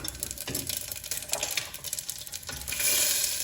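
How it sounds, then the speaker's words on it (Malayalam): Cumin seeds crackling in hot oil for dal, a soft sizzle with scraping and stirring clatter that swells into a louder, steady hiss near the end; no voices. "ഒരു ടീസ്പൂൺ നമ്മുടെ ജീരകം, നല്ല ജീരകം ഇട്ട് അതിനുശേഷം"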